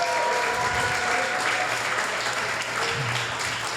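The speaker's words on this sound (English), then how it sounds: "Give a round of applause" An audience at an art event applauds, a dense, even wash of clapping that holds steady for a few seconds.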